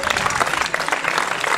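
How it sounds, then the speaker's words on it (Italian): Steady audience applause at an outdoor medieval festival in Voltago, dense and continuous clapping from a crowd throughout, fairly close with no pause. "Facciamo un bel applauso a Marco"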